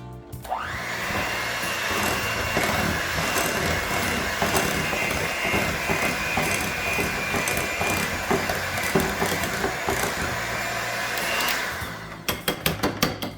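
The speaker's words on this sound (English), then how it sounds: "I do have my hand mixer here too, so maybe I'll just use that for a minute." A hand mixer whips cake batter dip in a steady, loud, high motor whine that runs unbroken for about eleven seconds. It then cuts off, and a few sharp clacks of the beaters follow.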